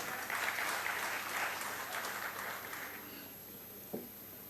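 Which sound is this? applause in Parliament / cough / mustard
applause in Parliament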